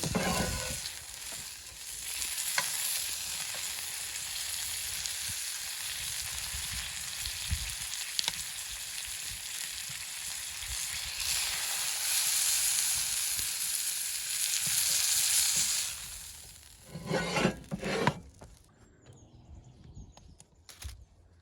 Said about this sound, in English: I'm just going to quickly sear the fat to render that down on the edge of this steak.